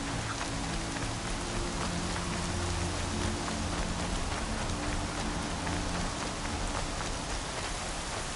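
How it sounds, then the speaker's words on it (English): Steady, loud rain pours down throughout a scene in the video game Horizon Zero Dawn, a dense continuous hiss of drops on surfaces with a faint low rumble beneath and no talking. "Rain's too loud to hear much."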